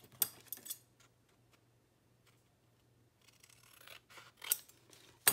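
Sharp close scissor snips trim a piece of card, a burst of cuts at the start and another cluster near the end, separated by a quiet pause with faint handling noise.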